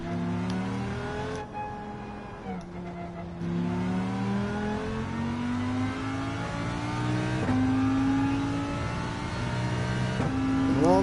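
A Lamborghini engine in Gran Turismo 7 revs up through repeated gear shifts, its rising whine climbing and dropping several times, loud and continuous with no talk.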